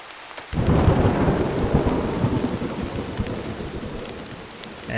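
Heavy rain pours steadily on surfaces with deep thunder rumbling through it, starting abruptly after a brief quiet moment and staying loud and dense throughout.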